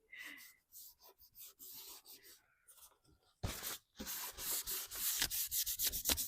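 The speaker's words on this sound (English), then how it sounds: "But you just buff it because you're working with all your waxes while they're still wet." Black wax being buffed onto a wooden cheese box, close, soft rubbing strokes that come in short irregular bursts, then grow louder and more continuous toward the end.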